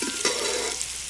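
Onions frying in hot oil for a vegetable noodle dish, a steady broadband sizzle with a brief stirring scrape near the start, close and moderately loud, no voices.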